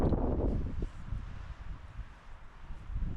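Wind gusting at a snowy winter campsite, buffeting the microphone with low rumbling roars that rise and fall, fairly quiet and steady throughout.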